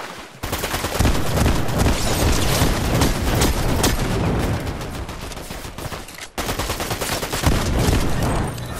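Sustained, dense gunfire rattles almost without pause in a Fortnite match, loud and close, with rapid overlapping shots and heavy bursts that briefly drop out once before resuming.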